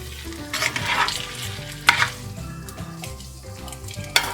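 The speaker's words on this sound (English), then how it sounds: "Just fold that in with the shrimp and the oil and the spices." Shrimp with oil, spices and linguine sizzle steadily in a pan while being folded and stirred, with occasional sharp utensil knocks against the pan and no talking.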